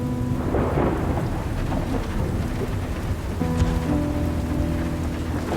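Heavy rain pours steadily while deep thunder rumbles and rolls beneath it, a dense, continuous storm with no voices.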